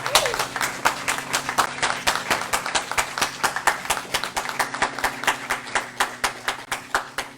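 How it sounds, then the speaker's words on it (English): Audience at a motivational talk giving themselves a round of hand clapping, a fast, rhythmic series of sharp claps nearly in unison over a low steady hum, with faint talk mixed in. "give yourselves a big hand clap"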